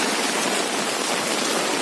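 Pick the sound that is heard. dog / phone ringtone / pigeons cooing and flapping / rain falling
rain falling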